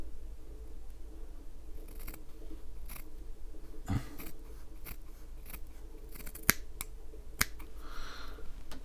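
Scissors cut a Japanese organic Muji cotton wick pad for a mouth-to-lung RTA, giving a few sharp, close snips and clicks spaced over several seconds against a quiet room.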